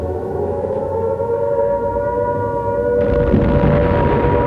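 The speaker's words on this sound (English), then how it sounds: "when enemy planes were spotted, air raid sirens would sound" A steady wailing air raid siren holds a sustained droning tone over low rumbling noise, loud and continuous, with the background swelling louder near the end.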